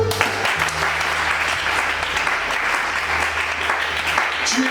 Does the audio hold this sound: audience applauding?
yes